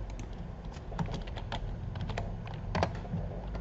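A computer keyboard taps out a font name in quick irregular keystrokes, close and clear, with no talking over it.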